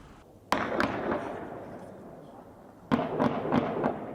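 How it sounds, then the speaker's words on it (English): Two sharp bursts of gunfire crack out a few seconds apart in the west of a city in Afghanistan, each a quick cluster of shots echoing off buildings in the distance. "gunfire erupted in the west of the city"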